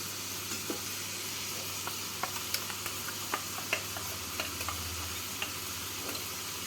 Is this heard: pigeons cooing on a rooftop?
no